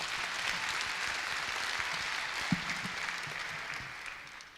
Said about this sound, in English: Please welcome Mr. Kim with a big round of applause.